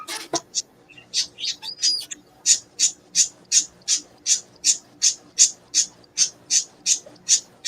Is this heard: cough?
no